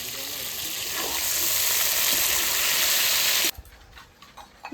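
Chicken pieces fry in hot oil with a loud, dense, steady sizzle that stops abruptly near the end, leaving a few faint clatters behind.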